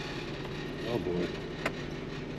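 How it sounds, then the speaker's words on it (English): A damaged Jeep on a rough back road in the Adirondacks runs with a low, uneven engine rumble, with a brief clunk near the end and a voice faintly over it. "there is a good chance that I just screwed my Jeep up. Does not sound good."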